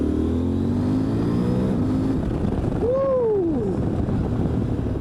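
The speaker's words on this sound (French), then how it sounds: "On sent que c'est un moteur qui aime quand on accélère en grand comme ça là." A CF Moto 1000 MT-X twin-cylinder motorcycle engine revs up under hard acceleration, its pitch rising in a near, continuous roar that eases off partway through.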